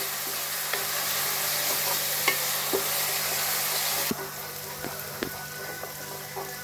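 Chopped onions frying over high gas heat until browned for a moong dal badi sabzi, a steady dense sizzle with scattered clicks and scrapes of a stirring spoon, the hiss easing slightly toward the end, no speech.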